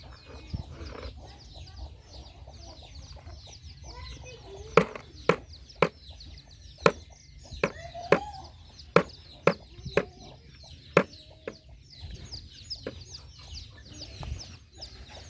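Chickens clucking around a farmyard under a tarp-tent setup, faint scattered calls over a low background, with a run of sharp, regular chopping knocks in the middle.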